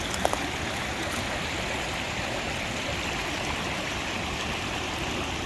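Water flows steadily in a river in the Sierra Nevada mountains, a constant broadband rushing close to the listener that holds unchanged throughout, with only a few tiny clicks at the start and no talk.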